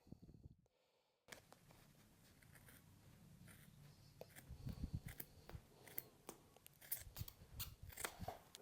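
Close, quiet snips of scissors cutting through bicycle handlebar tape, a series of sharp irregular clicks and crunches after a brief pause.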